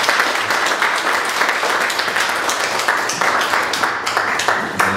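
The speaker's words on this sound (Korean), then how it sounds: "다 같이 한번 박수 치겠습니다." Audience applause at a New Jersey Korean church pastors' and pastors' wives seminar: dense, steady clapping across the room fills all five seconds at an even level.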